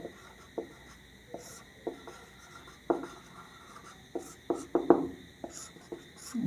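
A pen scratching out a math solution by hand on paper, short close strokes and taps in an irregular rhythm, steady high ringing tones in the background, no talking.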